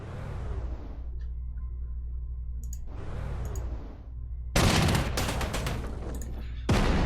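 Artillery fire in Panzer Corps 2, two rising whooshing shell sounds followed by a loud crackling volley of rapid blasts and a final burst.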